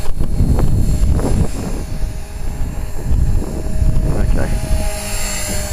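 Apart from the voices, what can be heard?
450 RC helicopter hovering low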